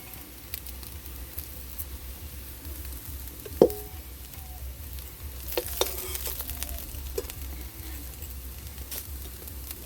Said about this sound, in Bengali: এইভাবে দেখুন আপনারা ভেজে নেবেন।